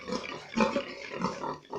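Sows on a pig farm grunt and oink repeatedly at close range, with several overlapping animal calls and no talk.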